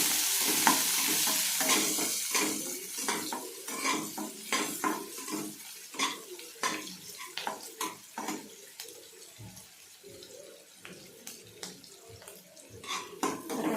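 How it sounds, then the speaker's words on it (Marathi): Onion sautés in a pan for rava upma, a soft constant sizzle under a steady run of rhythmic spoon scrapes and light clinks against the pan, moderately quiet and close. "परतून घ्यायचं थोडं लाल होईपर्यंत."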